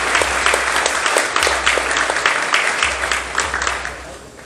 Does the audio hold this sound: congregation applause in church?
yes